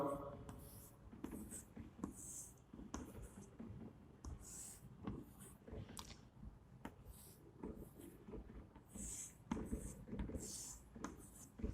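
Chalk scratching and tapping across a classroom board as a maths figure is drawn, a steady series of short strokes and scrapes repeated for several seconds, fairly faint, with no talking over it.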